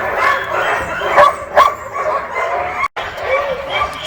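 Iditarod sled dogs at a summer dog sled tour bark and yip excitedly before a run, a dense chorus of overlapping barks with whimpers, fairly close and continuous.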